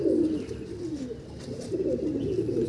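White male Andhra pigeon cooing close by in a soft, continuous low murmur, with a slight rise toward the end and no talking.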